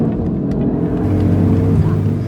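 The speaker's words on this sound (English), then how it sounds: "That's a real exhaust sound." A 2022 Audi RS3 (8Y) exhaust roars up close with a deep, rumbling engine note that rises steadily in pitch and loudness, heard alone without talk.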